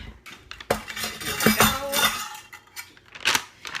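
Metal kitchen utensils clink and rattle against dishes in quick irregular bursts while making apple pie, close by, with no talking.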